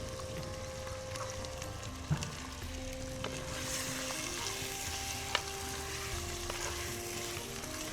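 Quail meat frying in an onion and green chilli masala, a steady close sizzle throughout with a couple of sharp clinks of a utensil against the pan.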